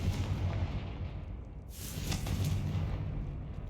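Confringo blasting spell from Hogwarts Legacy, a deep continuous booming rumble with a brighter whooshing burst midway, steady and loud throughout with no talking.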